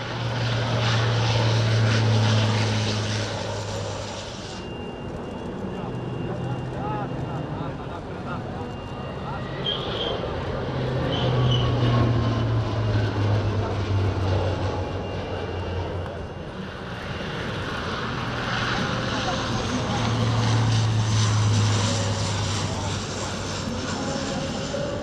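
A Romanian Air Force C-27 twin-turboprop military transport flying at the Bucharest airshow, its propeller drone steady and loud, swelling and easing as it passes overhead, with a constant low engine hum throughout.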